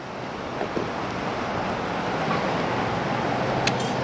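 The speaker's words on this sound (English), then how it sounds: "Look at that, little mini me waterfall." A small trickling waterfall in an outdoor woodland setting gives a steady, continuous rush of water, fairly close and even in level, with wind noise brushing the microphone.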